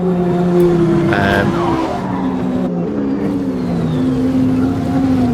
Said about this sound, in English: Massive accident on the first corner.